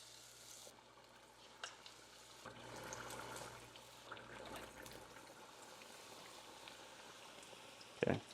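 Chicken nuggets dropped into 350-degree frying oil, giving a steady low bubbling sizzle that swells in the middle, with a few small clinks and a sharp knock near the end.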